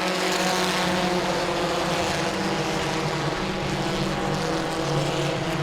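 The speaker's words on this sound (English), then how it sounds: "Here goes the 12 down on the inside, making a move, a little bit of contact too with Michael Waters" UCAR race cars roar around Langley Speedway in a continuous, loud drone of several engines. The engine note shifts slightly as the cars pass, and nobody speaks.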